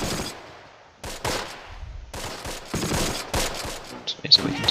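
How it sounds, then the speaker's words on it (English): MG34 machine gun bursts in the war game Close Combat: Last Stand Arnhem, several short rattling volleys separated by gaps, moderately loud, with someone talking between them. "there's that MG34"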